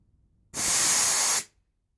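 One sharp hissing blast of fuel spraying from a cleaned diesel injector on a Land Rover 200 TDi engine, lasting about a second, loud and close, cutting off abruptly into silence.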